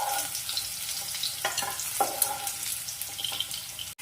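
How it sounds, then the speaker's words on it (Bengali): Sliced bitter gourd fries in hot oil in a pan, a steady close sizzle with a few spoon stirs and scrapes, one sharp knock right at the end. "উচ্ছেটাও একটু লালচে লালচে করেই ভাজবো।"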